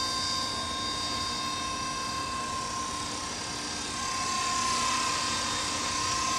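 An RC model with a King v2 brushless 3900kv motor flies nearby, producing a continuous high-pitched electric whine and buzz that holds steady and swells slightly toward the end, with no talking.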